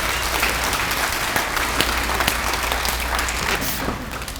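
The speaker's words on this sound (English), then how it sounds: "A big over the head clap for our superintendent, Dr. Denton Santarelli" A school assembly crowd claps with hands raised over their heads for the district superintendent, a dense, sustained wash of many hands at fairly strong volume that tapers slightly at the end.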